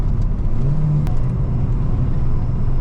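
Small 16-valve engine of a Peugeot 309 GTI 16 pulling hard, a loud sustained drone that rises in pitch as it accelerates, close and steady with a brief sharp tick midway.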